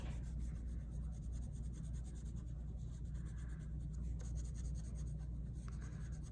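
A colored pencil or crayon rubs steadily across paper while someone colors in a blue-green sky, producing a continuous soft scratchy scraping with short pauses and no voices.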